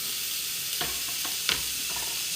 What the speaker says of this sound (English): we're going to add in our minced onions here. And we're going to let them saute